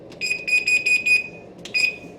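A kitchen oven timer being set for lasagna gives a series of close, clear electronic beeps: a quick run of five in a row, a short pause, then two more.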